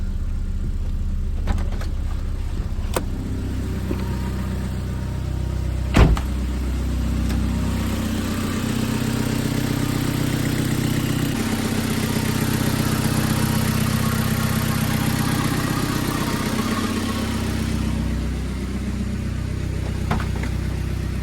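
A revived VW Corrado with a 1.8T engine runs at a close, steady idle with a few sharp clicks, then rises in a brief rev before settling back.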